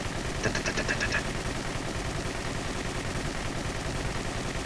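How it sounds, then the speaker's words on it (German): Machine gun fire in War Thunder, a tank battle game with the Japanese Ho-Ni, sounding as steady dense rapid rattling that fills the whole stretch at constant loudness, with a brighter burst early on. "Das MG hat so einen geilen Klang."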